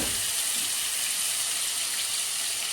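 A paste of ginger, green chili and onion frying in hot oil, giving a steady, dense broadband sizzle that holds evenly throughout with no voices.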